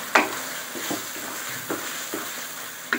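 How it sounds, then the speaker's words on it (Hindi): Chicken keema sizzles steadily in ghee in a pan, with a sharp scrape at the start and several softer stirring strokes spaced through the frying. "चले जी अब इसकी अच्छी सी बुनाई करती है"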